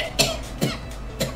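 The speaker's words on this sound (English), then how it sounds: "Hiccup cough." Three short, abrupt hiccup coughs, close and fairly loud, spaced a fraction of a second apart with no talking.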